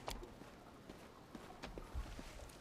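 Hooves of a corrupted, plagued horse clip-clop at a walking pace in a fantasy video game, a handful of soft, irregular thuds over low ambient background.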